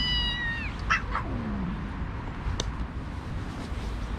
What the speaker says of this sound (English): Look at the mama cat.